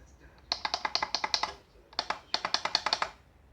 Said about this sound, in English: As far as buttons go, it's a little bit clicky for my personal preference